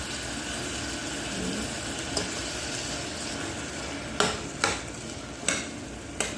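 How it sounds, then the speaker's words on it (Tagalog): Chicken being stirred with soy sauce in a pan, a steady soft sizzle running throughout, with a few sharp scrapes or clanks of the utensil near the end. "Halu-haluin pa natin guys para ma-absorb yung chicken ang ating soy sauce"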